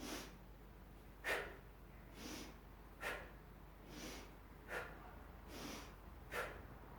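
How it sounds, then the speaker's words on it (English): Heavy rhythmic breathing during kettlebell swings, sharp forceful exhales repeating about every second and a half with softer inhales between, close and alone. "You might have heard my breathing."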